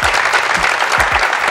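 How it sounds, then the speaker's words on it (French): Loud, dense applause from an audience cheering lookalike contestants, a continuous patter of many hands clapping close by for the whole moment, with no voices over it. "vous pouvez vous applaudir parce que vous êtes incroyable"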